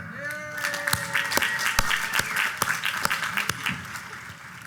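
A commencement ceremony audience at Queens College breaks into a round of applause for the musicians, a dense, steady wash of many hands clapping with sharper individual claps punching through, heard fairly close and continuing throughout.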